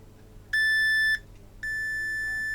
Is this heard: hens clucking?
no